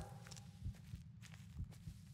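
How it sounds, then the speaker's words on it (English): Soft paw footsteps of Bullet, a dog in the Blair Witch video game, padding over forest ground in a few irregular low thumps, moderately close against a quiet rustling background. "I can hear his footsteps. I'm following his footsteps."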